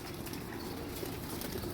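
Pigeons in a racing pigeon fancier's loft in Meycauayan, Bulacan make a dense, steady murmur of soft cooing and rustling, close and continuous without pause.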